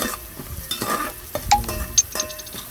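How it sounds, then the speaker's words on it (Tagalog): Garlic sautés in a pot, sizzling under quick stirring scrapes and a couple of bright metallic clinks from a utensil against the pot, close and fairly loud. "Gisa-gisa, mix-mix ng ating bawang."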